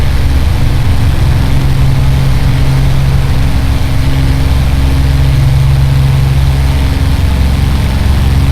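Spitfire Mark I engine running hot in a flight simulator game, a loud, steady low drone with a constant deep hum that holds unbroken throughout, no voices.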